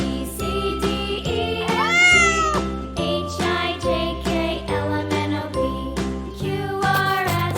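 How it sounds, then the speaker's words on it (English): A cat meowing, with several rising and falling meows over a busy bed of jingly children's music that plays throughout. "C for cat."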